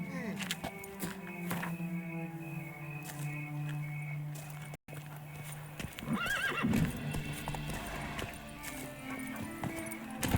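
Horse hooves clip-clopping at a steady gallop in The Witcher 3 video game, with a whinny partway through and game music underneath.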